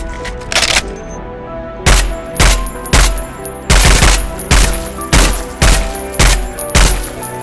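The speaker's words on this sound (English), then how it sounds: "Let's try these two guns" Two guns fired in the Roblox game Contact A-888: a string of sharp, loud, evenly spaced shots, about a dozen bursts in quick rhythm, close up with no talk.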